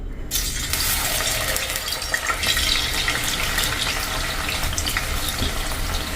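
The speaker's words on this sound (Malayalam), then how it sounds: "ഇനി വറുത്തെടുക്കാൻ ആവശ്യമായ ഓയിൽ ഒഴിച്ചു കൊടുക്കാം. നമ്മുടെ എണ്ണ ചൂടായി വന്നിട്ടുണ്ട്." Raw banana slices deep-frying in hot oil in a bronze pot, for jaggery-coated banana chips: a steady, dense bubbling hiss that holds loud and close throughout with no talk.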